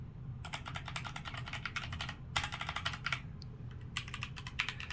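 Rapid clacky keystrokes on a mechanical keyboard with brown or red switches, Logitech G512 Carbon or HyperX Alloy Origins, in quick bursts with short pauses, close and crisp against a low background hum.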